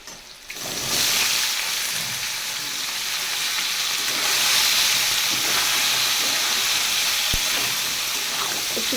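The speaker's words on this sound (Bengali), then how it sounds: "একটু ভেজে নেব সোয়াবিনটা" Soybean chunks and potatoes frying in a pan, a loud continuous sizzle that flares up after a brief quiet start and holds steady, close by, with a faint clink near the end.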